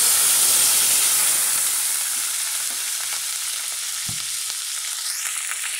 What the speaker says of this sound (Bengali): মশলাগুলো এখন আমি ভালো করে কষিয়ে নিচ্ছি।